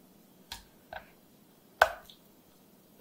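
Knife cutting through a block of tofu on a board while preparing a spicy pork and tofu jjageuli stew: four separate soft, close chops spaced irregularly, with quiet pauses between them.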